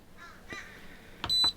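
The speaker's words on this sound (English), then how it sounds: "I heard a beep" An electronic device in a camper gives one short, clear tonal beep as it powers on. The beep comes near the end, after a few faint scattered sounds in a quiet room.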